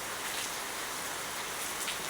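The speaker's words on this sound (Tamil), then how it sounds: "அதிகாலை 4 மணிலிருந்து மழை பெய்து கொண்டிருக்கிறது." Steady rain falls in the early morning, a continuous, even hiss of drops with no pauses or voices.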